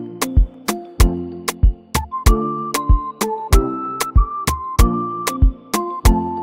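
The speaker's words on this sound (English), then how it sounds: "So I'm gonna use this human whistle." A human whistle sample in FL Studio plays short, clear tonal notes in a melodic line over a punchy, regular beat of kicks and snares, loud and up front with no talk.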